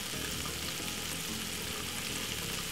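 Garlic frying in butter at medium heat, a soft, even sizzle with faint crackles, quiet and unbroken for a few seconds, with no voices.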